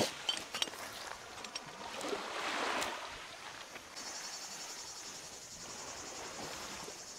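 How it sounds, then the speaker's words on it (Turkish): Crickets chirp in a steady high-pitched trill across the second half, faint and distant, over quiet outdoor ambience on a deserted island by the sea, with a few soft splashes. "Cırcır cır böceği sesleri rahatsız ediyor mu?"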